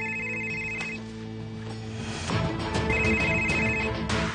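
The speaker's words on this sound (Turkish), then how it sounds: "Ağam Tufan arıyor." A telephone rings in two electronic bursts with a quiet pause between them, over a low background hum and shuffling.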